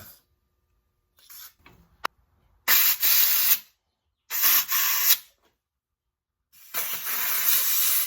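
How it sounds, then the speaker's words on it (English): WD-40 sprays in short hissing bursts into a Harley Davidson Softail engine, about three strong sprays of a second or more separated by silence, preceded by a few faint puffs. "let's get some spray in there."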